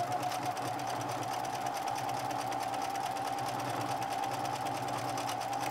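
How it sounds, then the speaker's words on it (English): A Singer sewing machine with a timing fault that skips stitches runs steadily while sewing its widest zigzag stitch, giving a loud, close, continuous mechanical whir with a rapid rhythmic chatter, no voices. "this second line of stitching is the widest zigzag stitch the machine can make"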